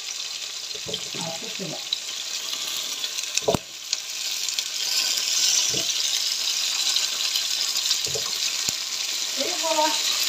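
Food frying in a covered pan on the stove gives a steady, fairly close hiss that runs throughout, with brief bumps and clinks at times and short bits of French talk over it.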